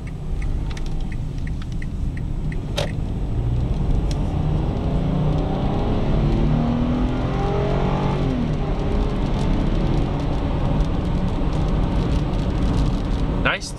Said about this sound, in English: we'll go ahead and get a little acceleration pass